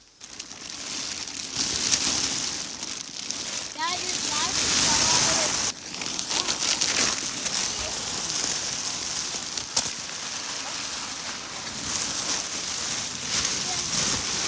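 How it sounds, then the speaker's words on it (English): Apples dropping from a tree onto a tarp spread on the ground during apple picking for cider pressing, giving a steady patter of scattered thuds and rustles, with a voice speaking over it partway through. "Raining apples."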